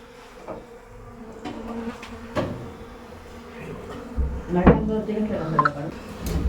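Honey bees buzz around a hive being removed from a house, a close, fluctuating hum that swells and fades, with people talking over it and occasional knocks and clatters.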